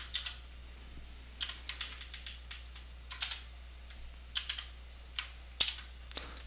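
Computer keyboard typing code, clusters of quick light key clicks in irregular bursts with short pauses, close and fairly quiet against a low steady hum.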